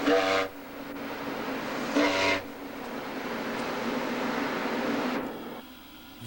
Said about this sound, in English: The last steam whistle on the Great Lakes.